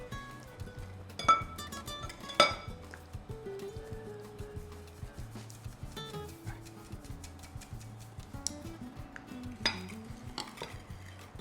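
Flour is stirred into a liquid batter for fanouropita, a quiet, close stretch of rhythmic utensil taps and scrapes against a bowl with a couple of sharper knocks.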